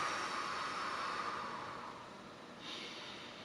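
A single deep, slow breath during a stretch, drawn in and let out close to the microphone as a soft airy rush that fades, followed by the start of another.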